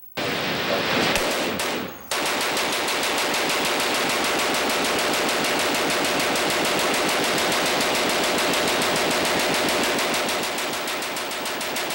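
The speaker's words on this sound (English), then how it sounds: "I now know exactly what it's like to shoot an AR-15 assault rifle. And for that matter, a Browning M2 machine gun." A Browning M2 machine gun and an AR-15 rifle firing, a long, loud, continuous run of rapid shots after a short opening burst, with no talking.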